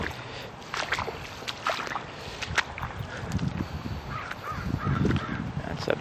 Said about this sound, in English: I wonder what kind of bird that is.